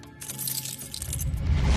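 Metal keys jangle for a padlock stunt on a Khatron ke Khiladi set, a brief bright rattle as a low vehicle-like rumble swells beneath it.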